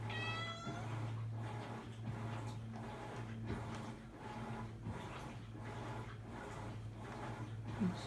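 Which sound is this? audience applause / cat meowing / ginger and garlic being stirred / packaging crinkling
cat meowing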